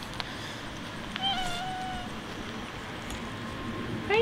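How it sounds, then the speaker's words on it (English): A house cat meows a few times, quiet and short, over a steady outdoor background hum. "My kitty cat"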